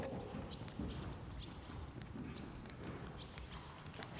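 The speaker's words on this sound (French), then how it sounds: "Le cheval galope à droite." A horse canters on the right lead during a dressage session, its hoofbeats thudding in a regular rhythm on the ground, faint and somewhat distant against a background wash of ambient noise.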